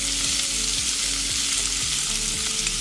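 Browned sausage sizzles loudly in a pan as flour is stirred in, a dense continuous frying hiss with occasional scraping strokes, close and alone with no talk.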